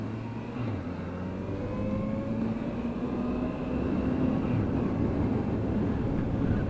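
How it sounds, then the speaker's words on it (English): A three-cylinder motorcycle with an undertail exhaust hums steadily as it rides, a continuous engine drone with gradually rising pitch, loud and close, with wind noise mixed in. "A little bit different noise out of this bike."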